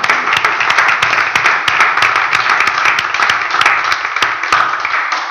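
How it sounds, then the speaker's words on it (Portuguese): A church congregation applauds during a service, dense rapid hand claps sustained and loud throughout, with faint voices mixed in beneath. "Você pode aplaudir o Senhor por isso"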